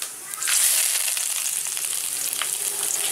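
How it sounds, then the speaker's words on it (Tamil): Cinnamon, cloves and poppy seeds fry in hot oil for pepper egg rice, giving a steady, close hiss and sizzle with no voices. "இப்போ வந்து பட்டை, கிராம்பு, கசகசா இதெல்லாத்தையும் போட்டுக்கலாம்."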